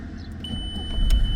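A Volkswagen Passat engine with 254,000 km idles with a low, even rumble, swelling slightly louder toward the end of the short stretch.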